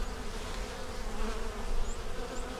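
Honey bees buzz densely around an open beehive as the frames are inspected. The humming is close and continuous, with a few individual bees whining past.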